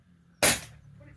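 A single sharp air rifle shot in a garden, one short crisp crack followed by quiet.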